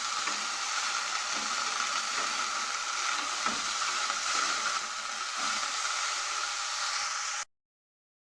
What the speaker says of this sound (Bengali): বরবটি ভাজা হচ্ছে